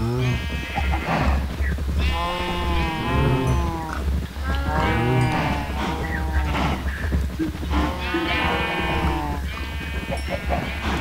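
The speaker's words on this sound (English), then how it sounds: "Breed the cows." Cows in the Minecraft video game mooing repeatedly in overlapping calls, loud and close, with several drawn-out moos spaced through the stretch over a steady low background.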